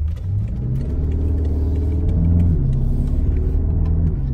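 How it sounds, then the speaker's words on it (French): BMW X6 M with an open exhaust, its engine giving a loud, steady close-up rumble with a shifting tonal drone and a slight rev swell near the middle, no voices over it. "Là, on a un échappement ouvert."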